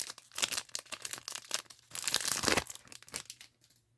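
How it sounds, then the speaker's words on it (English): A foil pack of Panini UFC Prizm trading cards is ripped and crinkled up close, with a run of quick crackling tears that builds to a dense, loud rip before tapering off. "We'll go ahead, zip into this next pack."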